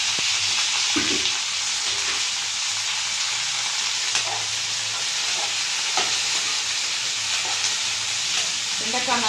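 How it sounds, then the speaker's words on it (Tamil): Freshly cut okra (ladies' finger) sautés in a hot pan, giving a steady, close sizzle that runs throughout, with occasional soft stirring clicks. "வெண்டைக்காய் நல்லா வதங்கி வரட்டும்."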